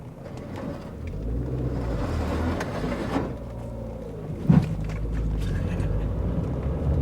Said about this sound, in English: Got in the car and started going.